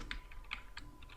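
Keys tapped on a computer keyboard while building a fillable PDF form from an Excel document in Kofax Power PDF, a few quiet, irregular clicks over a faint steady background with no talking.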